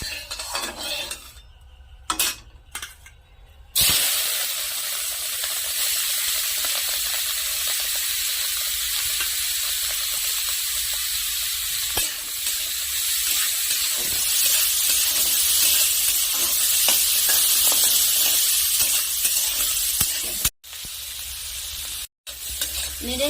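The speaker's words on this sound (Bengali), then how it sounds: "এখন আমি কড়াইয়ের মধ্যে সরিষার তেল দিয়ে মাংসটা ভেজে নেব।" Meat fries in hot mustard oil in a wok, giving a steady, close hiss and sizzle, with intermittent scraping and clinking as it is stirred.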